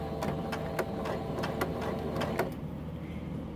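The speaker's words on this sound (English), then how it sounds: "we're going to do a back stitch right here." A sewing machine runs a back stitch on fabric, its needle thumping in a steady rhythm of about eight beats before stopping, leaving a low motor hum.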